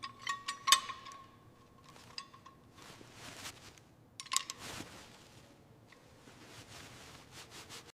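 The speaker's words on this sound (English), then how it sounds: "Just need to tighten these bolts now." A ratchet tightens bolts on the fender of a restored 50-year-old classic motorcycle, giving a few short clicking bursts near the start and middle, separated by quiet handling noise, close and faint with no talking.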